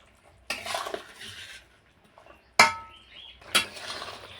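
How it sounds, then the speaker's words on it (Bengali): Fried paneer pieces going into a simmering curry in a pan, marked by a sizzling swell and two sharp metallic clinks of a utensil against the pan, close and fairly quiet. "এখন এর মধ্যে দিয়ে দেব ভেজে রাখা পনিরগুলো।"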